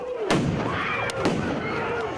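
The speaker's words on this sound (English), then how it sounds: "A large explosion is heard." Loud booming blasts echo across an open space at a protest in Lafayette Square, Washington, a couple of sharp bangs over a rumbling crowd-like background.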